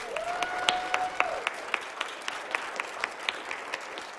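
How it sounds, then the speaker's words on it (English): Audience applause at a school board's Black History Month observance settles into steady, evenly spaced claps, fairly faint, with a brief whistle rising over the opening second. "Can we give them another round of applause?"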